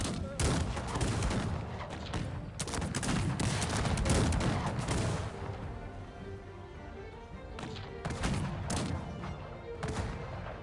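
In the game Cossacks 3, rapid bursts of gunfire and heavy booming cannon shots fill the first half, then sparser shots ring out over a rumbling battle background.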